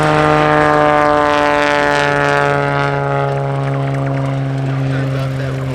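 A high-wing light aircraft landing at EAA AirVenture Oshkosh 2018, its propeller engine droning steadily and loudly with a strong hum that eases slightly over the clip. A voice talks over the engine.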